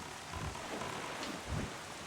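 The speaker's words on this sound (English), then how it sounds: "You're not out because it's raining?" Rain falling in The Legend of Zelda: The Wind Waker, a dense, even hiss of downpour with faint low rumbles underneath.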